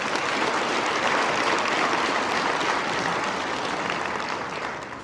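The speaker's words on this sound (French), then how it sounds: "Bonne main d'applaudissements" A dense, even wash of audience applause fills a Québec agricultural hall of fame ceremony, loud and sustained before tapering off slightly at the end.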